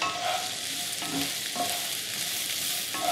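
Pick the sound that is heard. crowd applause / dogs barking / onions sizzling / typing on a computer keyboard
onions sizzling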